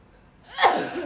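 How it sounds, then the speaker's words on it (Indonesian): A single sharp human sneeze bursts out after a quiet moment, close and moderately loud, with a short breathy intake leading into it and a brief fading tail. "Tunggu bentar, mau bersin."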